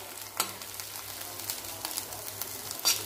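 Masala paste (vaatan) frying in hot oil over a medium-low flame for a spicy drumstick curry, a steady soft sizzle with occasional stirring scrapes and brief louder crackles, close and alone without speech.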